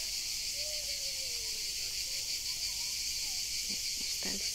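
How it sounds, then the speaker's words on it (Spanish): Steady high-pitched cicada buzzing fills the air continuously near a beach, a dense drone with faint bird calls and a few soft knocks near the end. "Las chicharras van a reventar."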